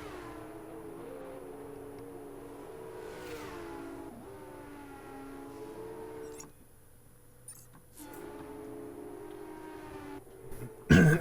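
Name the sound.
F2 cars on pace lap in racing video game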